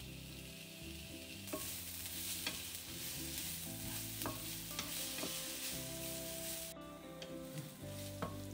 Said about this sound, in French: émincer un oignon et faites-le revenir à la poêle